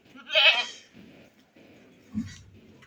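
A single goat bleats loudly and nearby, followed by quieter shuffling and a faint low sound, with no talking.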